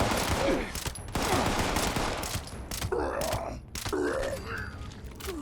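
Gunfire from weapons in the video game Fallout 76, with repeated sharp shots and bursts over a busy, dense game soundscape, while a person talks at points.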